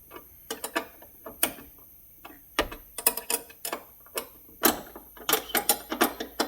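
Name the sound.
tightening a nut and bolt on door hinge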